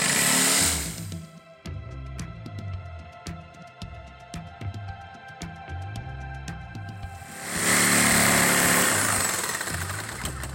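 A power tool cuts through plywood for a large wooden Gators sign, with loud buzzing bursts at the start and end and quieter rhythmic clicking and tapping in between, all close up.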